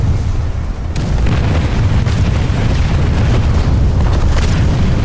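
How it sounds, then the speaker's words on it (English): Artillery keeps exploding in the PlanetSide 2 shooter, a loud, continuous wall of booming, rumbling blasts with occasional sharper cracks standing out. "it's getting so hammered by artillery"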